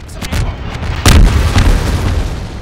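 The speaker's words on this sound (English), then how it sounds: "That's an explosion" A loud, close explosion in Half-Life 2 booms with a deep rumble, followed by lingering crackling debris and smaller pops.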